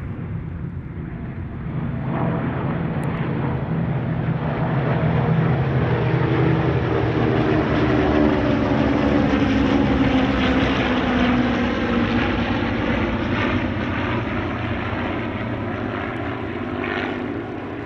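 A mixed formation of propeller warbirds at an airshow, four P-40s with Allison V-1710 engines joined by two Spitfires, a Hudson, an Avenger, a Mustang and a Corsair, passes with a rising, sustained drone of piston engines that peaks midway and fades slowly.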